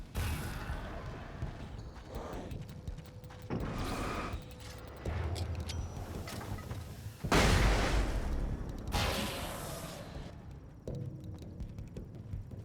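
Flashbang blasts in Alan Wake's American Nightmare, several loud broadband bursts landing one after another in irregular succession, each with a short ringing decay, set among game background noise.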